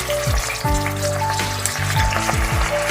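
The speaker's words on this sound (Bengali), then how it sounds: "এক এক করে আমি প্রতিগুলোকে বসিয়ে দিচ্ছি ভাজার জন্য" Cabbage pieces fry in hot oil for a cabbage rezala, laid in one by one; a bright, close crackling sizzle runs throughout, with a musical tone underneath and no talking.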